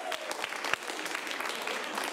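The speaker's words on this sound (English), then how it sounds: "give yourself a round of applause" An improv comedy audience claps at a show, a dense patter of many hands with a few sharper claps standing out and faint crowd noise mixed in throughout.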